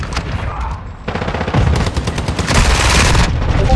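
Rapid automatic gunfire from an SMG in a team deathmatch video game, loud and close, with dense bursts building into sustained fire and no talk over it.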